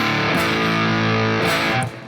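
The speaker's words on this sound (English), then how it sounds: "Then I have the fuzz with the reverb and the delay" Electric guitar through a Harley Benton StompControl pedal with fuzz, reverb and delay, a sustained, thick distorted chord ringing loud and steady, re-struck once midway, then fading slightly at the end.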